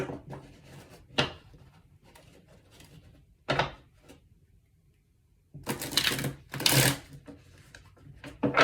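A deck of tarot-style reading cards is shuffled three times by hand, with crisp bursts of riffling and flicking separated by pauses, the last sequence the loudest and longest.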